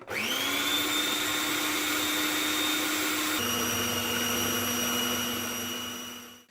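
Kitchen mixer switching back on after egg mix is added to pastry dough for a mincemeat and orange tart, a steady, loud motor whine that holds for several seconds, shifts pitch slightly midway, then winds down.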